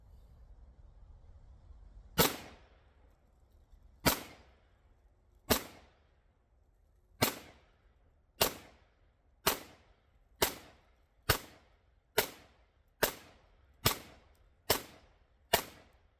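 A PSA Rock 5.7 pistol fires about a dozen sharp shots at a shooting range, widely spaced at first and then coming faster and evenly, each crack followed by a short decaying tail.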